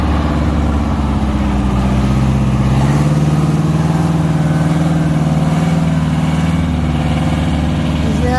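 A hot rod rumbles past at a Friday night street-rod and muscle car cruise, its deep, steady engine burble loud and close, swelling slightly mid-pass without any talk.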